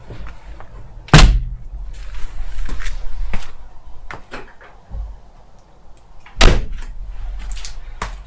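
A Rover P5B car door is shut twice with a solid, heavy slam, a few seconds apart, with quieter clicks and handling noises between and after the closes.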